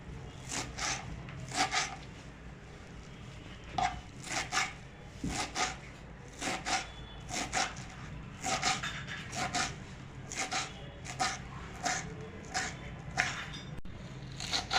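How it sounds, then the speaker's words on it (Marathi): A knife chops finely through washed carrot greens on a board, sharp rhythmic taps in quick bursts with short pauses, steady and close, with no talk. "आता आपण बारीक चिरून घेणार आहे"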